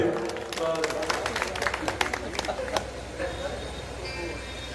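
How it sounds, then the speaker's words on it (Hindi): An audience at an outdoor Hindi poetry gathering at a village fair applauds, a dense spread of many hands clapping at moderate distance that thins out toward the end. "एक बार तालियां बजाइए बस।"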